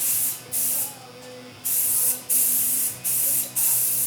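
A spray can hisses in repeated short bursts, light coats of paint going onto a Nosen Cessna 310 model airplane, close and fairly loud, with a brief gap between each pass.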